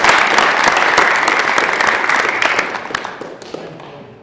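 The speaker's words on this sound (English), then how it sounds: "I want to give you guys a round of applause" A group applauds a theatre crew after an Othello production, loud and close, with sharp individual claps standing out over the dense clapping as it gradually thins and fades toward the end.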